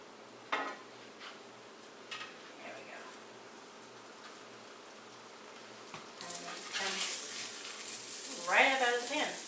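A keto grilled cheese sizzles in a hot skillet, a steady close hiss that swells louder as the pan returns to the heat, with a few soft clicks and light scraping over it.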